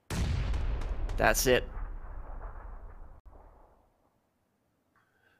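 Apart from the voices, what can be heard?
grenade explosion in PUBG video game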